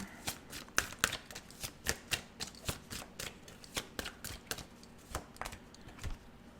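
Tarot cards shuffled by hand, a close, quiet run of rapid papery riffles and taps in an even rhythm, with no talking.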